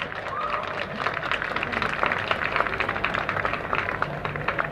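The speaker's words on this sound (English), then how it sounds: "So please give them a big round of applause." Steady applause from an audience, a sustained wash of clapping at moderate distance with no voices on top.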